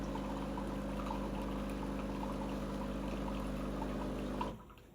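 A Breville Barista Touch Impress BES881 espresso machine runs a steady flush of hot water with a pump hum, close and continuous, then it cuts off near the end.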